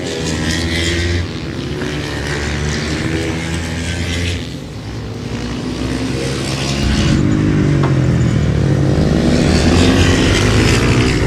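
Several supermoto motorcycles race out of turns at a North American Supermoto Shootout 450 race, a loud continuous engine roar that swells and shifts in pitch as the bikes accelerate past.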